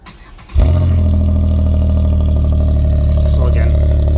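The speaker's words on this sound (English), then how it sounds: "And here's the Flowmaster mufflers on this as well." A car engine fires up and settles into a loud, deep idle through an exhaust fitted with Flowmaster mufflers, heard close with a steady rumbling burble after the sudden start.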